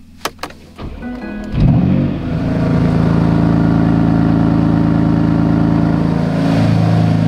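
A BMW M4 started in cold weather: a couple of sharp clicks, then the starter cranks briefly before the engine catches with a loud flare and settles into a steady, rumbling idle up close.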